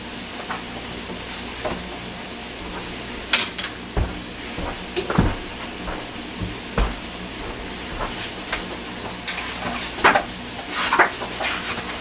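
Spices stirred into stewed apples in a pot: scattered spoon scrapes and clinks against the pot, some sharper knocks, over a quiet background hiss.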